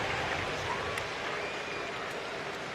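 Arsenal fans applauding in a football stadium as a player is substituted after nearly 80 minutes, a broad, distant wash of clapping that holds evenly throughout, with a commentator talking over it.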